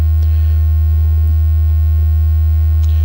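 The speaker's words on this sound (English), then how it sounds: "We are now listening to a plain sine wave from the Hertz Donut Mark III." Plain sine wave from a Hertz Donut Mark III synthesizer, a steady unmodulated tone holding evenly throughout over a constant low hum, with no talk.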